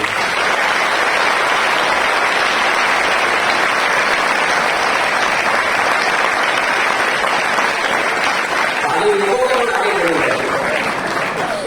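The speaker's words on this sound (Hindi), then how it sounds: "मैं चाहता हूं जोरदार ताली अपने पेरेंट्स के लिए" School audience clapping loudly for their parents in a long, dense, even ovation that holds steady throughout, with a voice starting to speak over it near the end.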